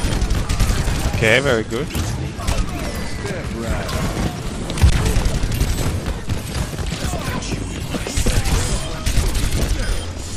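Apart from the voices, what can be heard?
gunfire shooting at a wall in a video game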